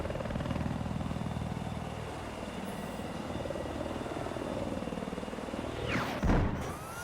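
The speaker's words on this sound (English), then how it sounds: "Wonder Bamboo manages to save that helicopter" Helicopter flying in the video game Battlefield 4, a steady rotor drone throughout with a sharp whooshing burst near the end.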